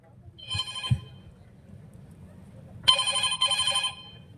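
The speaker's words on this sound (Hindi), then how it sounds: "फिर डिस्को क्लब का मालिक अफरोज के घर वालों को फोन करके इतला देता है और फोन अफरोज की वालिदा उठाती है" A telephone in a radio drama rings in two loud, trilling bursts, one short and one longer, against a quiet background.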